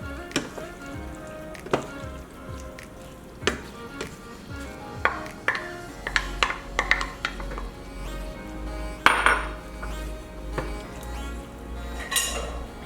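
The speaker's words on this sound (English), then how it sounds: "I'm going to add in the can of diced tomatoes, giving that a good mix, and then adding in the ground turkey." Ground turkey and canned diced tomatoes stirred together in a pan, with scattered scrapes and clinks of a utensil against metal over a steady low sizzle, close and moderately loud, no talking.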